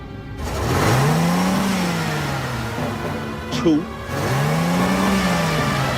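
A car engine revs and accelerates in a road movie scene, rising and falling in two long swells with a brief pause between, while someone speaks over it.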